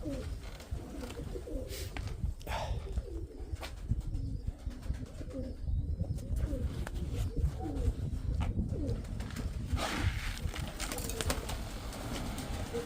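Pigeons cooing in soft, repeated low calls, with occasional wing flaps and rustling close by, continuing steadily throughout.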